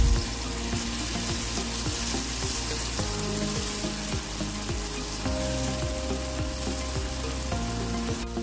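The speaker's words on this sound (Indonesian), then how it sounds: "Setelah itu tumis bumbunya hingga harum." Blended spice paste sautéing in hot oil in a wok, a steady close sizzle and crackle with occasional stirring scrapes, no talk throughout.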